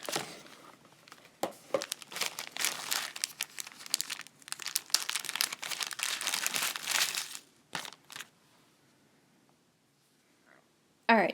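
A plastic Ziploc bag holding necklace beads crinkles and rustles near the mic as it is handled, in a long busy run of crackling that falls quiet before a few last crinkles.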